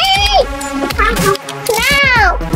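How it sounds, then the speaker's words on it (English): A cat in the game MM2 lets out several loud, close meows, drawn-out and wavering, one after another in quick succession. "it's a cat."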